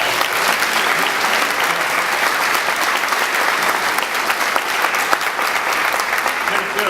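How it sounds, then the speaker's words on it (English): A school celebration audience gives sustained applause, dense steady clapping from many hands filling the room at an even level throughout, with no voices standing out. "Let's give Jim Mitchell a great big hand of applause."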